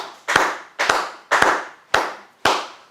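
Five short bursts of applause from a church congregation, each a sharp onset that fades out, spaced evenly about half a second apart with no talking over them.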